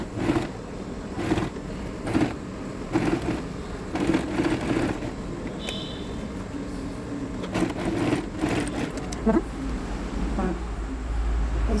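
A sewing machine stitches pockets onto a uniform frock in short, repeated runs of rapid clatter separated by pauses, while a person talks nearby throughout.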